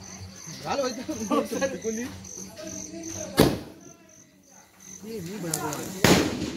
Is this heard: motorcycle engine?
no